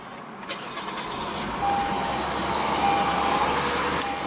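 A 2015 Lexus RC 350's 3.5-liter V6 engine starts up and settles into a steady, quiet idle hum, heard from a short distance.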